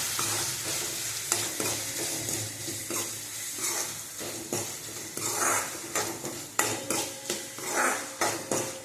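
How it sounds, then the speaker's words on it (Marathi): Homemade red chili powder sautés in a pan over low flame with a soft sizzle, while a spoon repeatedly scrapes and clinks against the pan in an irregular stirring rhythm, close by. "एक चमचा लाल तिखट टाकले मी, ते सुद्धा त्याच्यासोबत परतून घ्यायचं आहे"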